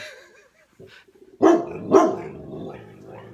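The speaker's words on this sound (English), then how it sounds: "go ahead and bark at your reflection" A dog barks at its own reflection, giving two loud, close barks after a few softer yips and whines, with a lower growling tail trailing off.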